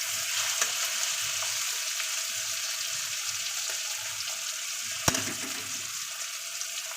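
Ground spices hit a pan of frying onion, ginger, garlic and tomato for a Bengali fish-head cabbage dish, making a soft continuous sizzle with a few stirring scrapes and one sharp utensil clink near the end.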